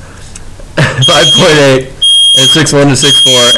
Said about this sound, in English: that is a fire alarm test right there